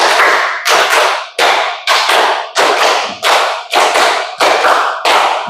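A class claps hands in a steady rhythm, about eight loud, evenly spaced clap bursts that each fade quickly before the next one.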